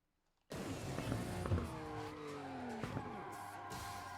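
A car in Burnout Paradise skids under a handbrake turn, with a sudden loud onset of engine roar and falling tire squeal that runs steadily to the end.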